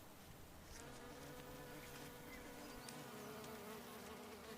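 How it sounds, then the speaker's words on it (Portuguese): Honeybee foragers laden with honeydew from forest aphids return to the hive, a steady soft buzzing hum of many bees at close range with no voices, continuous throughout. "As forrageiras carregadas regressam à colmeia."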